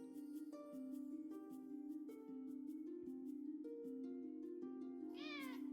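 A cat meows in the fantasy RPG Another Eden, a short mew rising over steady game music with repeated musical tones, and a brighter chirping flourish near the end.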